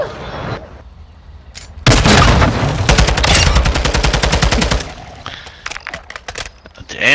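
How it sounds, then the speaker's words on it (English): Gunfire in Call of Duty: Modern Warfare II free-for-all, a loud rapid automatic burst lasting a few seconds, preceded and followed by scattered single shots and game noise. "Damn, that's a lot of bullets after I was already down"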